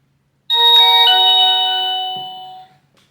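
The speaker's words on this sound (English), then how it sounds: "It has a high volume wireless chime rings even when disconnected from the internet." A Xiaomi Smart Doorbell 3 wireless chime rings out loud and clear with a two-tone ding-dong whose ringing tones sustain and fade over about two seconds, heard alone.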